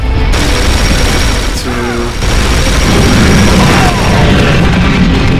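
Heavy suppressing gunfire in the Battle: Los Angeles shooter game, a loud continuous roar of rapid shots and booms that fills the whole stretch, briefly dipping once, with a voice shouting over it.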